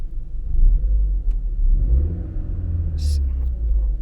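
A Vauxhall Insignia 1.4T turbo petrol engine with a Pipercross air filter revs up from idle, a deep, close rumble rising and holding for a few seconds, with a brief hiss near the end.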